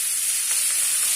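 Maggi noodles frying in a pan, a steady bright sizzle holding even and close for the whole moment, with no voices.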